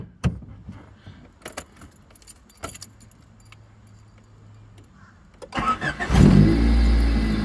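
A car engine cranks and catches near the end, settling into a loud steady idle after keys jangle and a few clicks and knocks inside the cabin.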